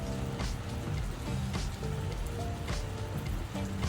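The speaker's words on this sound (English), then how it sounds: "It started raining around 3:30. First time experiencing the rain." Rain falling outdoors at night, a steady dense patter on surfaces with scattered louder drops, continuous and close throughout.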